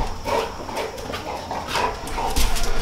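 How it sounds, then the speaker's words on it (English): Puppies play out of their crate on a homestead, giving soft whimpers, yips and short barks in scattered bursts, fairly close, over low background rustling. "if there's a ton of noise in the side here, I have the puppies out"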